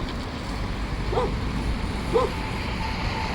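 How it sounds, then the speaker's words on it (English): A few dogs on the outskirts of a town in Mexico give two short, distant barks about a second apart, faint against steady wind noise. "A bunch of doggies."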